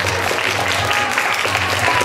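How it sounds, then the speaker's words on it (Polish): Audience applause at a regional youth theatre and vocal festival after a group's performance, a steady dense wash of many hands clapping throughout with a faint low hum beneath. "Wielkie brawa!"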